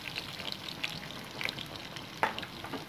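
Onions, whole red chilies and garlic fry in hot oil with a steady, close sizzle, and a few faint stirring clicks come through over it.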